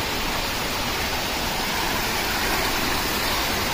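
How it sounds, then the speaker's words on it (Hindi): A waterfall flowing along the trekking route from Govindghat to Govind Dham on the Hemkund Sahib pilgrimage, a steady, dense roar of rushing water that holds even throughout with no voices. "झरना बह रहा है"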